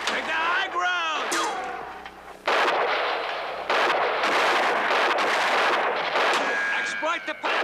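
Gunfire crackles through a chaotic TV show battle scene, with sustained shots and blasts running over the whole stretch, mixed with shouted voices and a whistling tone near the start.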